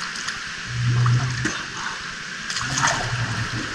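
A swimmer bending the knees and sinking into a pool, with a brief bubbling gurgle of water close by, heard twice over a few seconds.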